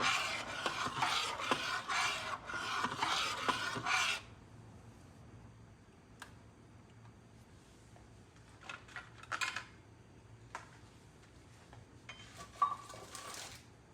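Flour, baking powder and sugar stirred in a bowl for peach cobbler, with a few seconds of brisk scraping up front, then quieter intermittent scrapes and taps against the bowl, close-up with no talking.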